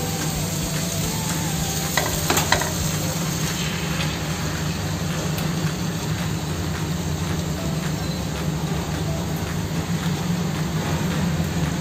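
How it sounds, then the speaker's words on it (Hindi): Marinated chicken being mixed into a hot biryani pot gives a loud, dense, unbroken sizzle and crackle close by, with a few brief scrapes and knocks of stirring near the start; no voices. "ये जो मैरिनेट किया हुआ चिकन रखा था ना हमने, अब इसको डाल दें इसमें।"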